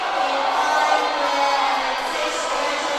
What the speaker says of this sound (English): as the crowd is fired up